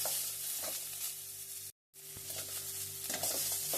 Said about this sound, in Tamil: தக்காளி, வெங்காயம் தக்காளி நல்லா வதக்கிடணும்.